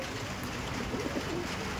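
Madras pigeons coo softly in a loft, low murmuring calls repeating over a hissy, noisy background with no voices.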